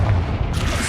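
Confringo and Bombarda spell explosions in the video game Hogwarts Legacy give a short, loud booming burst with a deep rumble and a sharp crackling edge midway.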